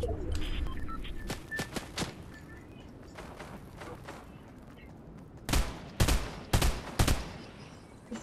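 Rockets are fired in the video game Fortnite, a series of sharp percussive blasts, sparse at first and then a cluster of louder, close explosive bursts.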